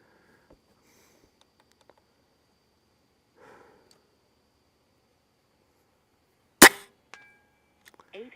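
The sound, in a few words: airgun shots fired at a target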